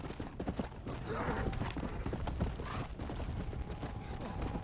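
Horse hooves clip-clopping in Red Dead Redemption: Undead Nightmare, a steady run of soft thuds under game music and ambience, with a narrator talking over them throughout.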